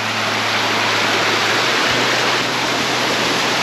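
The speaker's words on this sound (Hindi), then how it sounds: "तो ये रहा झरना, उधर भी एक झरना है, वहाँ से पानी आ रहा है इधर" A waterfall pours steadily in a forest, a dense, loud, unbroken rush of water filling the whole span with a constant broadband roar and a low hum underneath.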